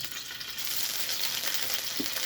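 Marinated tofu sizzles loudly and steadily in a hot pan, a dense crackling hiss close up with no talking.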